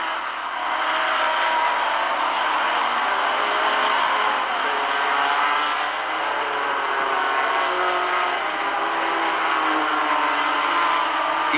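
Ford race cars at the 1966 Le Mans 24 Hours, taking the first corner, heard as a continuous distant engine drone on an old film soundtrack, steady and unbroken with no talk.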